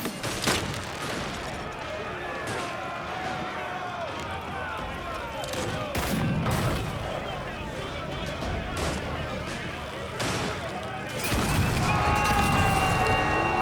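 Ship cannons firing in the naval video game Assassin's Creed Black Flag, with repeated sharp booms scattered through a busy mix of game music and effects, a heavier burst near the end, and voices talking in between.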